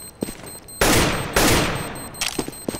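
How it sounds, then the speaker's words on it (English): Gunfire in Counter-Strike: Global Offensive as a player shoots at a barrel: a few sharp clicks, then two loud, dense bursts of shots back to back, followed by scattered fainter cracks. "I'm shooting the barrel."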